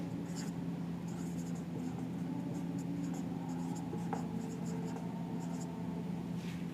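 A pen scratches across paper in short strokes, writing out figures for a class 12 accounting share-issue problem, close and clear over steady room hum.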